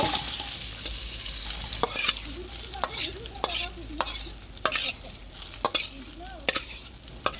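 Fish frying in a pan in a village kitchen, a steady hiss of oil under sharp periodic scrapes and taps of a spatula, with no voices.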